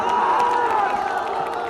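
An election rally crowd in Karakat, India, for Pawan Singh claps, cheers and whoops together in a loud, sustained roar, with shouted voices mixed into the din.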